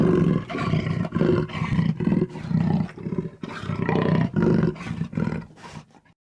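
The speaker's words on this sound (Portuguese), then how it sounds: "Esse é o som do jaguar." A jaguar roars in a series of deep, rough, close grunting calls, each loud burst followed by a short breath-like pause, fading at the end.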